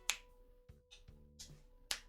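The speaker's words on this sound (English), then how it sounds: "a finger snap you can hear" Several crisp finger snaps ring out close to a microphone in a quiet room, with faint scattered clicks between them.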